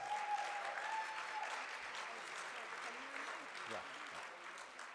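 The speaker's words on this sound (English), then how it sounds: "Let's give him a nice round of applause." Audience applause at a political luncheon, a steady, dense round of clapping heard from a distance and fairly quietly, with faint voices and a brief tone near the start.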